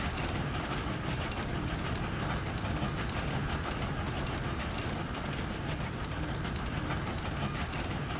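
Trains in the game Train Valley rumble steadily with a continuous clattering roar, loud and unbroken throughout, with no voices.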